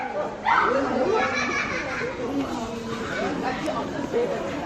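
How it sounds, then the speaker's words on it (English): Many puppies at Elephant World Sanctuary in Thailand yipping and barking repeatedly, mixed into the chatter of people talking nearby. "There's so many puppies."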